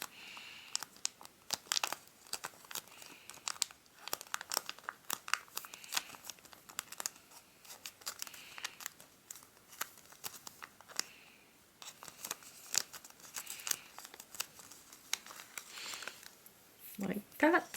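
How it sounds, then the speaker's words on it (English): Paper is creased and folded into an origami Siamese cat, with close, repeated crinkles and crisp snaps throughout, at times under a speaking voice. "we want to grab the bottom here and fold this up as well"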